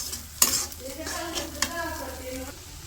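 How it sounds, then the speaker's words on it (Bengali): Powdered spices sizzle and fry in a pan in a village kitchen, and a utensil stirs them with a couple of sharp clinks over the steady hiss. "এই যে এই পাশে হচ্ছে গুঁড়া মশলাগুলো দিয়ে দিচ্ছি, এগুলোর সাথে ভালো করে মিশিয়ে নিই।"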